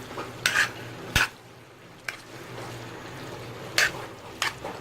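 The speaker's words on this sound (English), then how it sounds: "I'm mixing up the sweet pepper, the carrot, the thyme, the scotch bonnet pepper. Just giving everything a stir." Sweet pepper, carrot, thyme and scotch bonnet stirred in a pan over low heat, a few distinct scraping strokes against a soft background sizzle.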